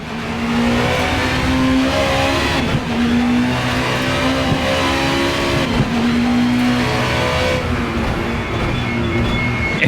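A VRC Super Touring race car engine in the Assetto Corsa sim roars loud and close, revving hard through gear changes with steady high-pitched drone and brief dips between shifts, continuous throughout.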